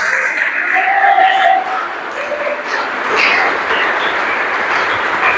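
A church congregation claps together in a dense, loud, continuous wash that sounds like a crowd and stays steady from start to finish.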